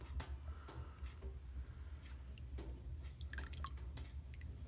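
Whey dripping and trickling from freshly made lor cheese curds as they drain, a scattering of soft close drips and small liquid ticks over a low background rumble.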